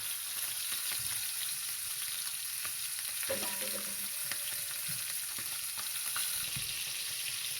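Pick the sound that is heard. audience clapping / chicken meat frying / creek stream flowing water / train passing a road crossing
chicken meat frying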